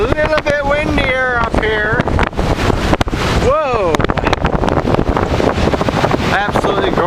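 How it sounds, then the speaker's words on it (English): Strong wind buffets the microphone on an Irish hilltop, a loud constant roar with gusty rumble while people talk over it. "it's a little bit windier up here"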